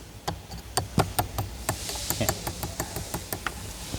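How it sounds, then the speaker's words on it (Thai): Knuckles tap in quick, irregular succession on the paddle shifter of a Ford Raptor diesel 4x4 2.0L Bi-Turbo, a made-of-special-material part. The knocks are crisp, close and moderately loud over a steady cabin hiss. "ได้ยินเสียงผมเคาะไหมแต่ผมให้ดิฟัง"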